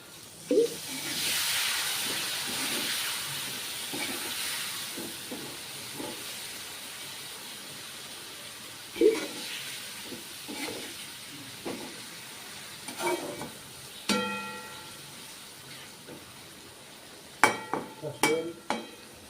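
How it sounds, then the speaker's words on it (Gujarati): About two spoonfuls of water hit a hot pan holding a vegetable shaak seasoned with salt and Kashmiri chili, giving a close, steady hissing sizzle that rises and fades, with scattered clinks and scrapes of stirring. "તો આપણે આમાં બે ચમચી જેટલું પાણી એડ કરશું"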